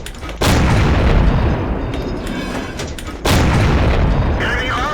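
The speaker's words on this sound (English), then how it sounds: "at this range I need to fire armor-piercing to increase my odds of getting a penetrating hit on the Churchill" Two heavy booming cannon shots from a T49 tank firing armor-piercing rounds in a video game, each a sudden loud blast followed by a long rumbling tail, about three seconds apart.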